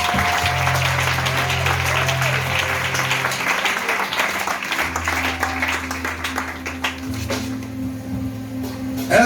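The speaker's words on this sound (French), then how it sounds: "Acclamons avec joie." A church congregation applauds with sustained, even clapping throughout, dense and fairly loud, with a steady tonal hum from the sound system beneath.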